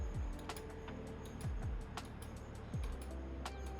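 Computer mouse buttons click repeatedly at an irregular pace, crisp and close, with low thumps and steady background hum from a homemade latency-testing setup.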